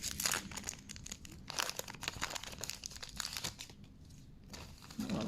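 Plastic wrap and packaging on a Pokémon Elite Trainer Box crinkle and tear in close, irregular bursts as it is pulled open by hand, with no talking.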